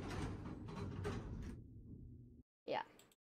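Doors opening in the Roblox video game make a sliding whoosh, then a short rising creak after a gap of silence, with talking over the first part.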